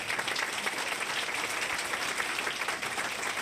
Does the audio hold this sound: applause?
yes